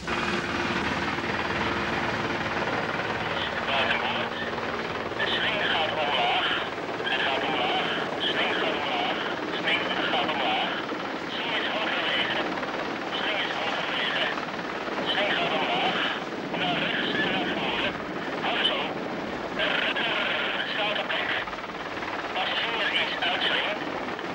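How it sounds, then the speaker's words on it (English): A Belgian Air Force helicopter's rotor thrum sounds steadily overhead at a coastal shipwreck, loud and continuous with a pulsing chop, mixed with wind noise and a faint voice in the background. "The Belgian Air Force makes a helicopter available to the salvos."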